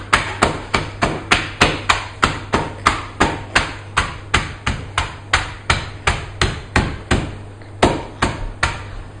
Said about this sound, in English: we need to smush up these biscuits